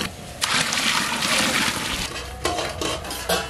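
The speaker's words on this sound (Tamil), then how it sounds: "சால்னாவுக்கு இப்போ வெந்நீர் சேர்த்துக்கலாம்." Hot water splashes loudly into a pot of salna curry, a close, continuous pour broken by a few sloshing surges, no voices.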